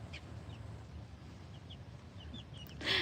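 Bantam chicks on their first day out, soft clucking and peeping scattered over a steady low farmyard rumble, with a brief brighter burst of noise near the end.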